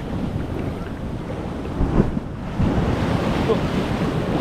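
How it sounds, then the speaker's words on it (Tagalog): Sea water surges against rocks and spouts up at a seaside spot, a steady broadband rush of surf and wind that swells louder past the midpoint, close and continuous, with faint voices in the background. "Pag umampas yung tubig doon, mubukal dire"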